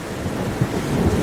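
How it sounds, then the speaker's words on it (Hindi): Thunderstorm with rain in a cartoon story, a loud, steady roar of downpour with a low rumble of thunder beneath it and a brief swell partway through. "इधर तेज तूफान और बारिश की वजह से लाडो का आधा घोंसला टूट जाता है"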